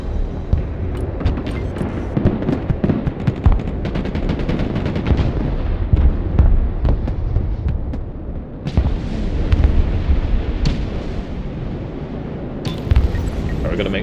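Incendiary strike in the modern military strategy game Broken Arrow: a dense, continuous barrage of booming blasts and crackling gunfire-like bursts fills the whole stretch, loud and sustained, with a voice talking over it.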